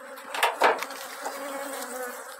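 Honeybees buzz around the entrance of a hive in an apiary, a close, continuous humming drone, with a couple of short knocks or bumps near the start before it settles into a steady buzz.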